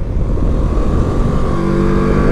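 A 2024 CFMoto 700MT motorcycle being ridden, its engine a close, loud continuous hum with a faint rising tone toward the end, under a bed of wind noise.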